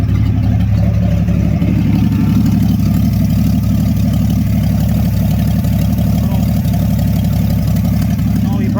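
Jeep J10 pickup set up as a snow plow truck, engine idling loudly and steadily with a deep rumbling drone that fills the whole stretch, close to the microphone with no other sounds standing out.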